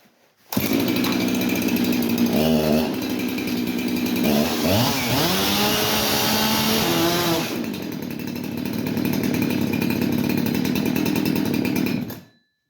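A chainsaw runs loud and steady, its engine pitch surging and dipping in the middle as it bites into protective Kevlar-fibre chainsaw trousers, then settling back to a constant drone before cutting off.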